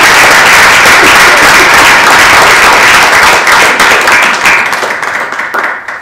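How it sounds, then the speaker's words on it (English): Loud, dense audience applause fills a university panel event on Native voices, sustained steadily and tapering slightly toward the end, with no talking over it. "give some round of applause"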